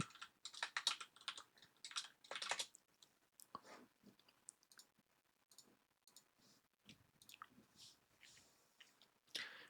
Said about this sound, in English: You guys won't have to hear the clickety-clack anymore.